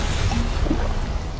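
Levioso spell cast in Hogwarts Legacy: a brief loud whooshing rush of magical energy, dense and continuous over a low rumble, lasting just over a second.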